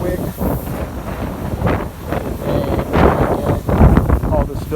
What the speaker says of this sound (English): sorry if it's a little bit windy